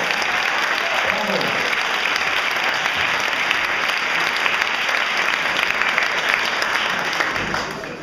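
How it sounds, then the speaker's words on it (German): An audience at a Tyrolean fanfare event claps in sustained, dense applause that holds steady for several seconds before tapering slightly at the end. "bitte einen großen Applaus für den Vorstand von Donau Tirol"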